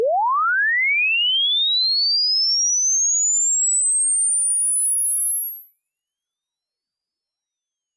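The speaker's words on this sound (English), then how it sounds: "It seemed like the pitch rose very quickly at the beginning, and then it got slower and slower and slower and slower as it went on." A pure sine tone sweeps upward, rising very fast at first and then slowing gradually as it climbs to a very high pitch, steady and loud with an abrupt stop at the end, no talking.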